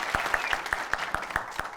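A small group claps in a quick, even rhythm of about nine sharp claps, close by and fairly faint.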